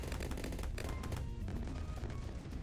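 Rapid automatic firing from a Dartling Gunner tower in Bloons TD 6 sounds as a fast, continuous stream of gunshot-like pops, fairly faint but unbroken across the whole stretch, with no voices.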